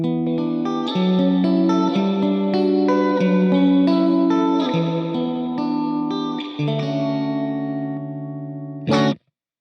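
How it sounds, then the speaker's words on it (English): Electric guitar chords ring out with heavy reverb and echo from the amp, the wet tail shifting as the reverb amount is changed via a Meloaudio MIDI Commander expression output, ending in a sharp strum. "I have the first expression output set to the reverb on my amp, so I can easily just change the amount of reverb"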